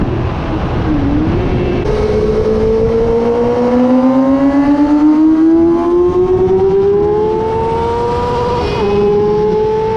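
Racing motorcycles on the Dubai Autodrome GP circuit, including a Yamaha R6 and a Ducati Monster, heard as a loud, close, high-revving engine whose pitch climbs steadily through the gears with a brief drop near the end.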